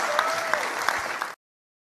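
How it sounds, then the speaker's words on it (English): Tottenham football fans applaud as a dense crowd, steady and fairly loud for over a second before cutting off abruptly, with a faint voice mixed in. "fans are there clapping"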